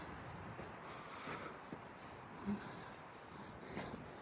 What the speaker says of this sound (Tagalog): Yung hihip ng hangin.